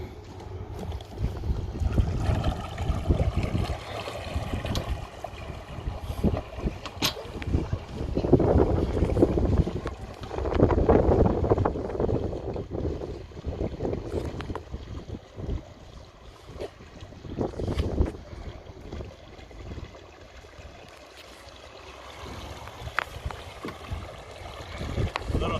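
A small electric boat motors across open water, a continuous rushing of water and hull noise mixed with heavy wind buffeting on the microphone, rising and falling in loudness.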